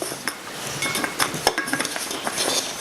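A nail held against a wooden block scrapes and taps along a metal can, marking its top and bottom in a quick run of light metallic clinks and scratches, close and fairly loud, with no talking.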